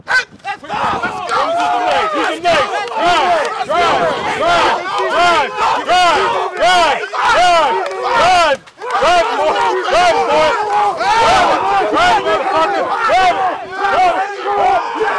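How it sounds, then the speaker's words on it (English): A loud crowd yells and cheers continuously in support of a climber, with dense overlapping shouting voices that barely pause, dipping only once briefly. "Let's cheer him on."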